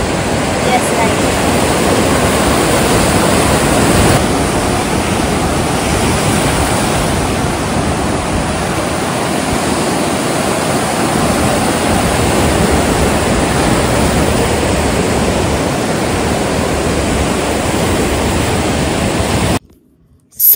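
Sea waves at Shrivardhan beach on the Konkan coast during high tide, a steady broadband roar of surf washing close by for about twenty seconds, loud and continuous with no talk, cutting off abruptly at the very end.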